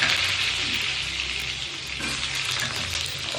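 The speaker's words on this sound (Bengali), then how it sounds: "তেলটা একটু গরম হয়ে গেলে আলুগুলো আমি ছেড়ে দিচ্ছি" Potatoes for a Bengali potato dum slide into hot oil in a kadai and fry with a steady, close, broadband sizzle that holds evenly throughout, with no talking.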